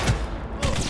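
Gunfire in Cyberpunk 2077, two short bursts of loud, close shots with a quieter gap between them.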